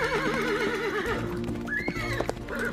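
Horse whinnying with a wavering, drawn-out neigh over layered hoofbeat clip-clop, a story sound effect of horses galloping across a plain; a second neigh rises near the end, loud and close, with no talk.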